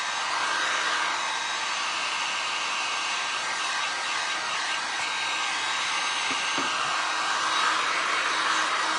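A hair dryer or heat gun blows steadily at close range over wet paint on a resin pumpkin, a loud, even whooshing roar with a constant motor whine that continues unbroken throughout.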